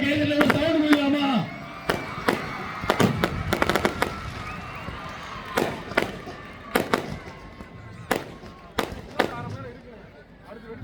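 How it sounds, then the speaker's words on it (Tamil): Firecrackers burst at a New Year celebration, a rapid string of sharp cracks followed by scattered loud bangs at irregular intervals, near and punchy, with a voice briefly heard at the start. "ஆனா பட்டாசு சவுண்ட் தாங்க கிளியுது"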